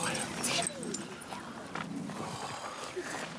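A dog barks and whimpers near a house with pet snakes, with several short yips and whines over a busy, noisy background while people talk.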